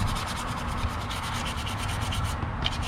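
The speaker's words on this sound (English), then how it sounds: "we're just using a 500 grit just to kind of get a basic scuff on here" A Corvette inner fenderwell is scuffed with 500 grit sandpaper, producing a loud, steady rubbing rasp in continuous quick strokes up close, with no talking.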